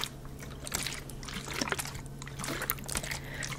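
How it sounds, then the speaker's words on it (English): A plastic vitamin water bottle handled close up as a quiet ASMR trigger, soft sloshing liquid and light crinkly taps in an irregular rhythm with no talking. "Next trigger is this vitamin water bottle"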